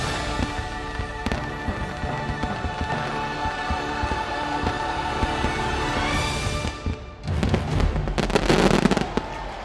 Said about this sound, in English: Watching the castle change to the music combinations that make the fireworks pop.